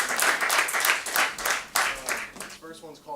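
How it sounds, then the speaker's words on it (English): Audience applause at a poetry reading, a short burst of clapping lasting about three seconds and fading at the end, with a voice speaking over it. "Round of applause"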